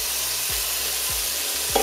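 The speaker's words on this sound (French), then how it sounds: "Là, j'ai fait fondre à peu près une cuillère à soupe de beurre. Quel beau son." Chopped onion sizzling in about a tablespoon of melted butter in a pan, a steady close hiss broken by a few regular low scraping stirs, with no talking.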